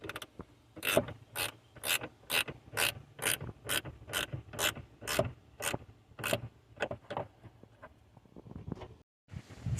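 A ratchet wrench tightens the battery terminal on a 2010 Dodge Charger 5.7L: a rapid, evenly spaced run of about twenty close metallic clicks that slows and thins toward the end, with no talk.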